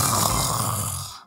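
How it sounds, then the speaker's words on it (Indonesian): A sleeping person snores with one long, rasping breath that fades out at the end, heard close and alone. "Dia ngorok."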